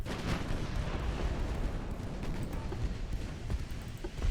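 Heavy naval guns fire in a late-1890s Russia-versus-Britain sea battle in Ultimate Admiral Dreadnoughts, a dense, continuous roll of low booms and rumbling blasts at a steady loudness.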